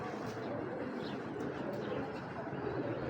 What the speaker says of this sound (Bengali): এ হলো অরিজিনাল লালপট্টি সুন্দরী কবুতর